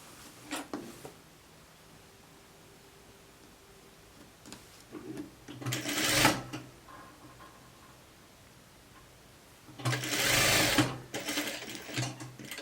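A sewing machine stitches a blouse seam in bursts: a short run near 1 s, a stronger burst around 6 s, and a longer, louder run near 10–11 s, with quiet pauses between.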